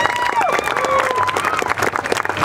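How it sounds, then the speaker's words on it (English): An audience at a Maori dance theatre performance at an Arizona Aloha festival claps steadily as a dense patter, while a voice carries through the applause. "Round of applause."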